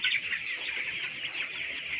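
Broiler chickens twenty days old in a hot poultry shed at night keep up a steady, dense mass of clucking and peeping, continuous and fairly close throughout with no voices.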